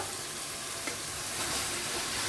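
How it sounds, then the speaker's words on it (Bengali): Pork sizzles steadily in a hot pan as it is stirred with spices for a curry, a dense continuous frying hiss with soft scraping strokes and no talk. "এখন পর্কের সাথে মশলাটা ভালো করে মিশিয়ে দেব।"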